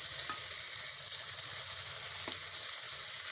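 Eggplant slices frying with egg in a covered pan give a steady, bright sizzle with soft crackles, close up and continuous, with occasional faint clicks and no one talking.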